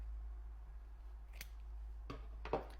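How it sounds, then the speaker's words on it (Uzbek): Scissors cutting a cotton pad in half, a few soft close snips spaced apart over a quiet low hum, with no talk. "Vatni diskni ikkiga bo'lib olamiz."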